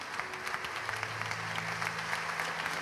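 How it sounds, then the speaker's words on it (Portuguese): A church congregation stands and applauds during a Portuguese-language worship service, dense continuous clapping filling the room, with a low sustained musical tone underneath and no clear speech. "Fica de pé com o melhor aplauso que você puder dar ao Senhor."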